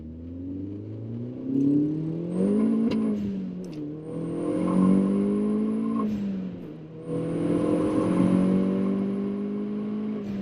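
A Mini Cooper S on a stage 3 tune pulls away hard. The engine note climbs repeatedly through gear changes, with a faint high whine over it, loud and close from inside the car.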